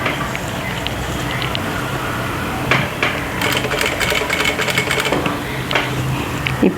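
Sewing machine stitching a round neckline, running in a steady continuous whir with faster rattling bursts toward the middle, close and fairly loud with no talking.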